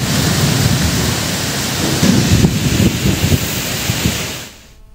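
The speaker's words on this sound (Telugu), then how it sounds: "పశ్చిమ గోదావరి జిల్లా భీమవరంలో ఉదయం నుంచి కుండపోతగా వర్షం కురుస్తోంది." Torrential rain pours steadily in Bhimavaram, West Godavari, during a storm with strong gusty winds, a loud dense hiss with low rumbling thunder rolling underneath before it fades at the end.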